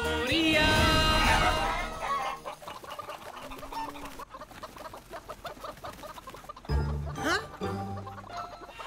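Cartoon farm hens cluck and squawk in a playful dance scene from a children's animated train series, loud busy clucking at first, then lighter bird calls and musical tones with bright sweeping effects.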